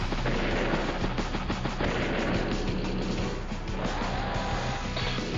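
Mech infantry unit attack in Advance Wars: Days of Ruin, a dense, continuous burst of gunfire and crashing impacts that stays loud and steady for several seconds without letting up.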